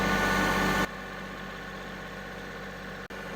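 A tractor engine runs steadily and close while being driven, a loud constant drone that drops a step in level early on, then holds even with a brief cutout near the end.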